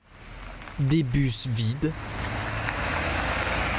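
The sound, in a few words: rain outside a school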